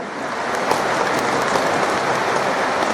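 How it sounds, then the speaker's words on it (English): An audience at a school assessment event applauds steadily, a dense, continuous wash of many hands clapping at close range for the whole stretch with no voices over it. "Give the big hand."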